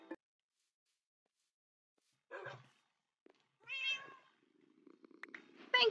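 A cat meows in short separate calls with long silences between them, fairly close and soft, ending in a slightly louder cry.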